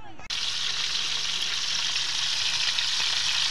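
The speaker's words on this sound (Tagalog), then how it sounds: "Magprito na tayo ng bangus." Milkfish (bangus) frying in hot cooking oil hisses in a loud, steady, close sizzle that starts abruptly and holds without pause.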